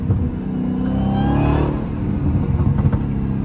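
A Dodge Hellcat engine with a drag pack revs up loudly nearby, then eases off with a few sharp crackling pops from the exhaust.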